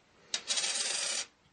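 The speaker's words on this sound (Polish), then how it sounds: "To jest też cary Mikołaj moneta." A 1902 gold Tsar Nicholas coin is handled up close, giving a sharp metallic tick followed by about a second of bright, shimmering rubbing and clinking that stops abruptly, with no voices.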